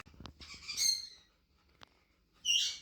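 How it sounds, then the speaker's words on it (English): Galah cockatoos give a couple of harsh, screechy squawks a second or so apart, close by, with faint rustling between calls. "I love birds. Galahs are my favourite."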